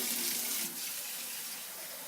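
Cold filtered water pours in a steady, continuous stream, a soft rushing hiss that eases slightly after the first moment.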